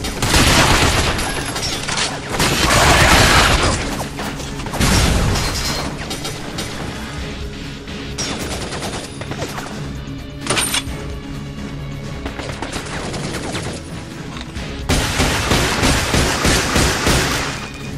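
Machine gun fire in the video game Binary Domain comes as loud, sustained automatic bursts mixed with crashes and booming explosions, continuing heavily across the whole stretch.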